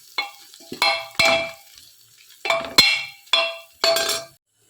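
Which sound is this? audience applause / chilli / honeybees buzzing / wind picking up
chilli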